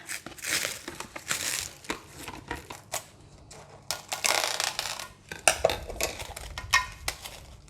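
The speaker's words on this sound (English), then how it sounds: "now I'm going to cover it with the cling wrap" Plastic cling wrap is pulled, crinkled and pressed over a dish of char siu pork marinated in sauce, with bursts of crackling film and a few clinks against the dish, close and fairly loud, no talking.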